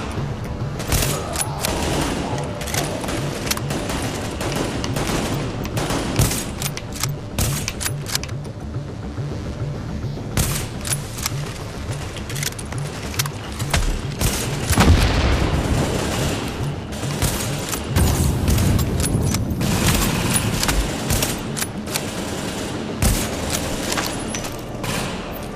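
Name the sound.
gunfire in the video game The Division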